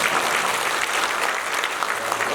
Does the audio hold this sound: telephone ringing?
no